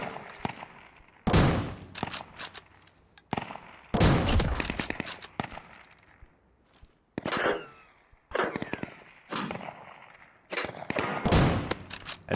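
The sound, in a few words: gunfire in video game Deadside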